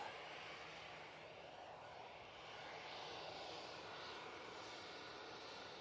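A departing airliner at Manchester Airport makes a steady, broad jet-engine roar that holds at a constant level throughout, moderately distant, with no talking.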